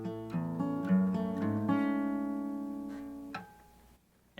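An acoustic guitar plays a walk with the fingers picking back and forth. Several close plucked notes ring out and then let a sustained chord fade away quietly, with no voice.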